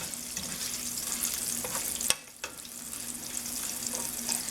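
Shrimp tails fry in a pan for lemon shrimp linguine, a steady close sizzle broken by a brief clatter and a short dip near the middle, with no talk.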